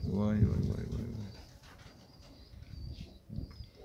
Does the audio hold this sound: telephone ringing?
no